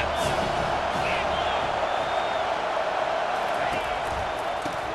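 A stadium crowd roars steadily in EA Sports College Football 25 during a big third-down defensive stand, a dense continuous wall of cheering with a game commentator talking over it.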